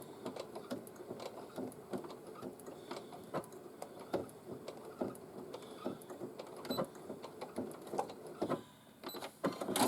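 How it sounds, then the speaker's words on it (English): A sewing machine stitches a pocket onto a tote bag in quick bursts of rapid mechanical chatter, running forward and back over the seam with short pauses between runs. "And now we just want to stitch it onto the bag."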